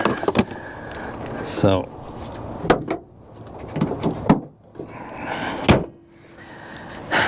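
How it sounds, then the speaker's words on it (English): Someone shuts the hood of a 2012 Kia Rio five-door hatchback, making several sharp metallic thuds and clunks close by, separated by quieter handling noises, with someone talking in between. "let me close the hood"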